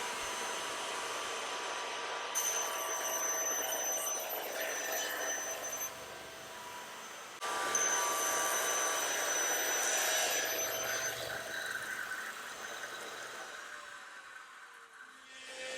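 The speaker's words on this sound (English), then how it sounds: "I've got my CNC machine flattening the other piece" A CNC machine flattening a wood piece in a woodworking shop gives off a steady, distant whirring and hissing drone with shifts in pitch as the cutter moves, faint and continuous throughout.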